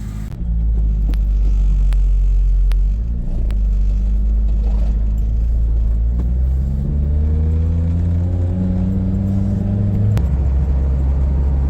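A 2002 Toyota MR2 Spyder drives on a road, its engine rumbling low and then climbing in pitch through the gears, with rising tones under steady road and cabin noise.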